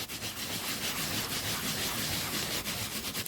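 A brush scrubs nail polish remover into carpet, giving a continuous dry, bristly scratching close by, steady and unbroken with a few brief dips, no talking.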